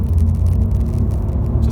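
A 2019 Honda Civic 1.0 VTEC Turbo under full throttle in first gear, a steady, loud engine drone heard from inside the cabin with no talking.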